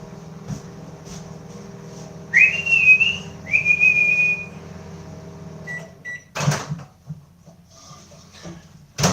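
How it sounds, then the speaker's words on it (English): A microwave oven runs with a steady low hum while heating ice cream, a high whistling tone rising and then holding, followed by a door or latch clack and a few faint knocks. "Does anyone else put the ice cream in the microwave?"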